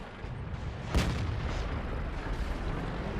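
A single heavy tank gunshot booms once from the Object 430 in World of Tanks. The boom is sharp and fairly faint, over a constant low rumble of engine and battlefield noise.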